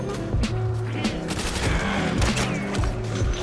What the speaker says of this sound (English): The first SMG on our list is going to be the M1 Thompson.